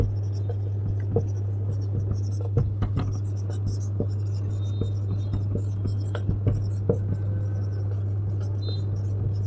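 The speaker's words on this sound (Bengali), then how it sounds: "আমি একটু শর্টে লিখছি" Pen writing by hand during a classroom lesson, a run of quick scratchy strokes and taps repeated at irregular intervals over a constant low electrical hum.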